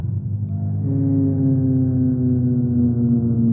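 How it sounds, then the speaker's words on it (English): A reconstructed T-Rex roar: a deep, low rumbling roar swells and holds for a few seconds, droning and growling like a huge animal, loud and alone. "this is the sound of a T-Rex"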